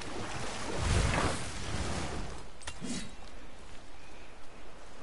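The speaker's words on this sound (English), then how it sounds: "I've never seen a waterfall so big." A huge waterfall in the 2018 game God of War gives off a continuous broadband roar of falling water. It swells early, then holds as a steady rushing wash with no talk over it.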